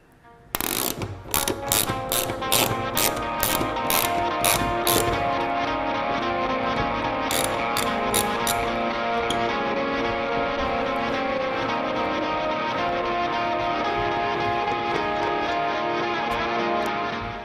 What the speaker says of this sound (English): get a T40 Torx bit, take the latch off the hood